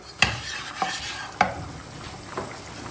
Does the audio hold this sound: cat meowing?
no